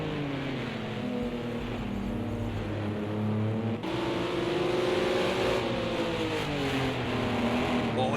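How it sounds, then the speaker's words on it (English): Racing cars in a sim racing video game hold steady engine drones that rise and shift in pitch as they accelerate, a continuous layered whine filling the clip at moderate level. "Oh, and 2 cars trying to go very fast there."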